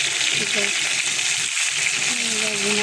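Four pieces of fish fry in oil with a constant, dense sizzling hiss close by, while a faint voice speaks underneath.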